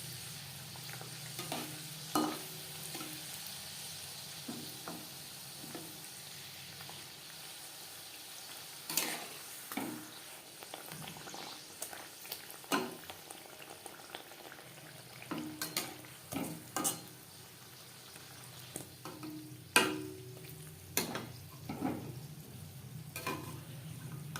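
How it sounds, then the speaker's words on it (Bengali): Stuffed green pea kachoris fry in hot refined oil over a medium flame, giving a continuous close sizzle broken by scattered sharp spatters and clinks of a ladle. "কচুরি ভাজবো মিডিয়াম ফ্লেমে"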